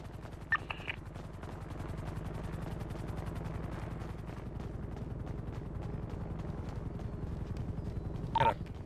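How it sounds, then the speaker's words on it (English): A helicopter in GTA V hovers during a roleplay yacht heist, its rotor giving a steady, rhythmic low thumping throughout, with brief sharp game sounds near the start and the end. "Tell that chopper to back away."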